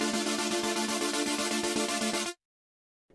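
A wide saw-wave synth layer built in FL Studio plays a bright, buzzy sustained chord with a steady pulsing rhythm for a little over two seconds, then cuts off abruptly into silence.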